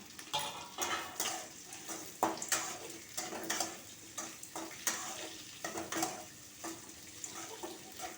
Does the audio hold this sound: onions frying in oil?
yes